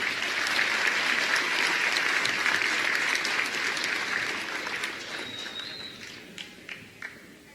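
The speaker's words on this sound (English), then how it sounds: "let's give another Warrior Nation round of applause for the 2020 Senior Warriors." Audience applause fills a high school basketball gym during a senior recognition, a dense steady clapping that slowly thins and fades toward the end, leaving a few scattered claps.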